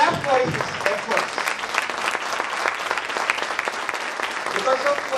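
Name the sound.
club audience applause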